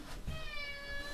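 A pet cat gives a single drawn-out meow, close and clear, in a home recording space.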